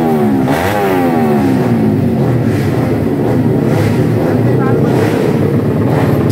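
Racing motorcycle engine revving hard at the Mijen circuit in Semarang during a novice-class event, loud and close with rising and falling pitch sweeps, under a steady layer of voices.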